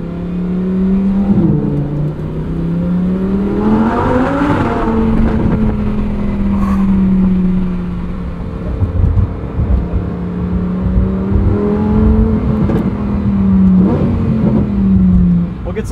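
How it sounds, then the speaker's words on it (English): Lamborghini Huracan STO engine revving hard in manual Trofeo mode, a loud sustained high-pitched scream that rises and falls through the gears, close up inside the cabin, with a person talking over it. "This engine absolutely screams."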